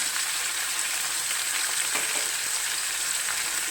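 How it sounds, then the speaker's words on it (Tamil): Yam pieces frying in oil with curry leaves and spices for a pepper roast, a steady, dense crackling sizzle heard close and uninterrupted, with faint stirring and no voices. "இப்போ கருவேப்பிலை எண்ணெயிலே பொரிஞ்சிருச்சு இப்போ இந்த கிழங்கு எடுத்து போட்டுருங்க"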